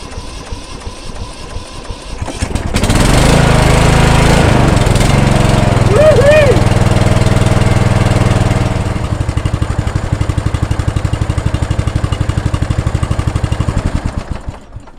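Ride-on lawnmower engine with a 16 horsepower motor, converted into a branch chipper, starting up and then running loudly at a steady drone, dropping slightly in pitch toward the end.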